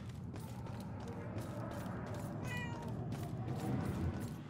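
Cat meowing in the video game Murdered: Soul Suspect, a short faint meow amid quiet ambient noise and soft creaking.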